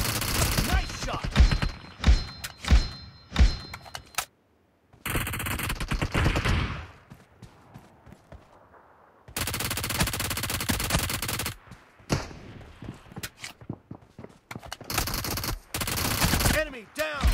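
Rapid bursts of gunfire from the PUBG battle royale video game, several loud automatic volleys separated by short gaps, with dense back-to-back firing near the start and end.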